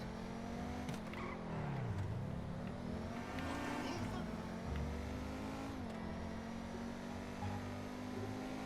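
A car engine from GTA 5 Online racing with small cars, revving and shifting pitch with tire squeals, running steadily throughout with a voice talking over it.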